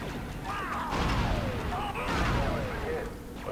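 Blaster gunfire from the Star Wars Republic Commando video game, aboard the RAS Prosecutor ship, sounds in repeated sharp bursts and crackling impacts at moderate loudness, mixed with game effects.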